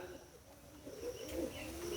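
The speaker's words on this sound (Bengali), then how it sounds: "এদিকটাতে পায়রা বাবরে বিরাট বড় বড় পায়রা" Large pigeons cooing in a dense forest sanctuary, low soft calls repeating faintly at a distance over quiet outdoor ambience.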